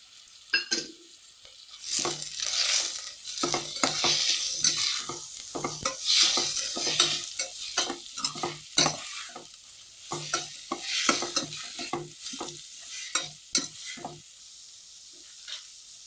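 Sizzling in a pan with frequent scraping and stirring strokes, busy and close, as green chillies and curry leaves sauté in hot oil for Kerala egg molly.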